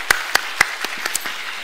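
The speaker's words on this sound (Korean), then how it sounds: "우리 박수 한번 다시 주시겠습니다." A few scattered claps from a church congregation during a Sunday service, sharp separate hand claps about every quarter second that thin out and fade within a couple of seconds.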